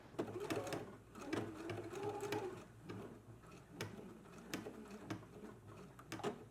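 A sewing machine stitching a placket through several fabric thicknesses, running in short rhythmic bursts of rapid mechanical clatter with sharp ticks between runs, heard close and fairly quiet.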